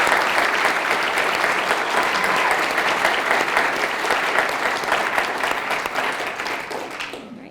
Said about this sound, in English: just get one more round of applause